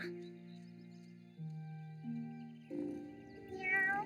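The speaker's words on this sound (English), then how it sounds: "Oh, hey there, kitty. Do you belong to my grandma?" A cat in the video game Wylde Flowers gives a few drawn-out meows, with game music tones sustained underneath, clear and close, and no one talking.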